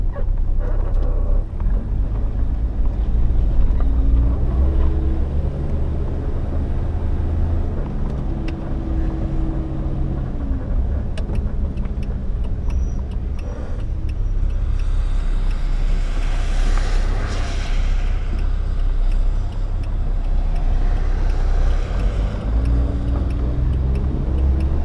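A 1974 Plymouth Valiant with worn front shocks and bushings drives on a test run, its steady low engine and road rumble filling the cabin, with louder rushing noise swelling midway.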